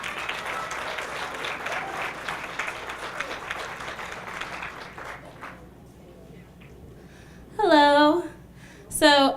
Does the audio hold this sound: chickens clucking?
no